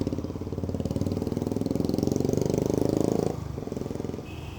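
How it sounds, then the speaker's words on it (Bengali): A KTM Duke 250 motorcycle engine runs steadily up close with a throbbing, pulsing exhaust note, holding loud for about three seconds before easing off to a lower idle-like rumble. "এই ডিউক 250টা চালিয়ে মারাত্মক লাগছে ভাই"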